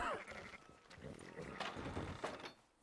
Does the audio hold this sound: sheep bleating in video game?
yes